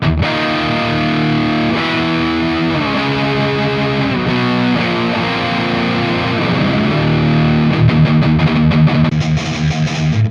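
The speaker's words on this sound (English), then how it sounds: "Heavy distortion." Heavily distorted electric guitar chords from a Valeton GP-50 multi-effects unit ring out continuously, thick and saturated, with a steady loud sustain and a few chord changes throughout.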